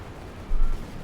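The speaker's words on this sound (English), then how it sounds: "Bren gun wielding section moving forwards there. A lot of firepower there." Bren light machine gun firing in the Company of Heroes 2 strategy game, heard as a short, muffled low burst in the middle of a quiet battle background.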